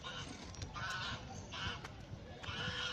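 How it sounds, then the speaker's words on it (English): Geese honking repeatedly at a distance, several loud nasal calls spread unevenly over a noisy outdoor background. "Oh, there's geese over there, there's geese over there."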